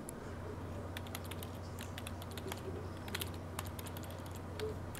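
Rapid clicking keystrokes on a computer keyboard, irregular and fairly close, with sharp taps scattered over a low steady hum and no talk.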